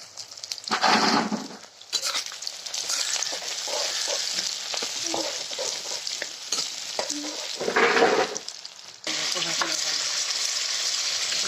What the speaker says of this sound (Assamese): পিঁয়াজখিনি ভাজি আছোঁ এতিয়া